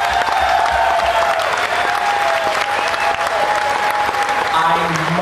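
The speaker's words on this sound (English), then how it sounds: "I'd like to have a great round of applause for our very good friends" A festival crowd at Wurstfest gives loud, sustained applause for a polka band, with a held tone and faint sounds of voices running beneath the clapping.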